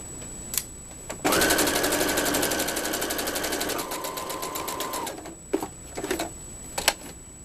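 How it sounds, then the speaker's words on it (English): A sewing machine runs in one steady burst of rapid stitching, sewing close to the edge of a Christmas stocking, with its pitch dropping partway through. A few soft handling clicks come before and after. "I'm going to sew really close to the edge."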